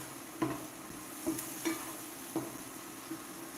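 Thick green onion tossed into a hot pan for steak fried rice gives a quiet, steady sizzle broken by a few soft stirring scrapes and taps, with no one talking.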